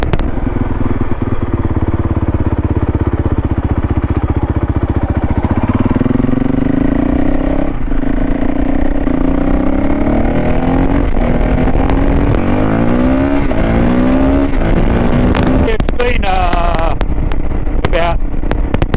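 A Honda CRF450L motorcycle ridden on a street, its engine droning steadily and then climbing through gears with rising pitch, loud and close under wind rush, with a rider talking over it.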